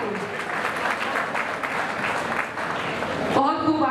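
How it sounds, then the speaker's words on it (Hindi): Crowd at a crypto fuel token launch event in Delhi breaks into loud applause, steady dense clapping for a few seconds before it cuts to voices and a brief musical sting. "जोरदार तालियां हो जाए शास्त्री जी के लिए everybody"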